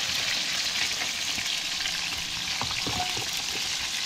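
Trout fry in hot oil with a loud, continuous sizzle and crackle throughout, with occasional pops and stirring, and no talking.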